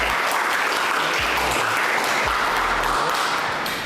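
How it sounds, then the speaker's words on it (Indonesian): Applause from a class in an evening university lecture fills the whole clip as dense, steady clapping, loud and continuous, with no talk over it. "berikan tepuk tangan dong"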